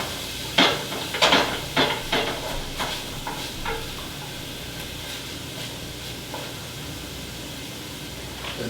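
Onions sauté in a pan for chicken cacciatore: a bright, continuous sizzling hiss, with a flurry of utensil clatters and scrapes early on that thin out into a steady fry.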